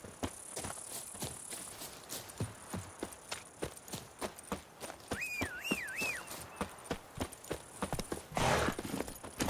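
Roach the horse from The Witcher 3 walks with steady, close clip-clopping hooves, a short whinny-like call rising briefly in the middle.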